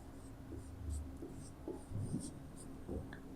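A pen scratching across paper while a maths solution is written out, soft intermittent strokes close up over a faint steady hum, with no talk.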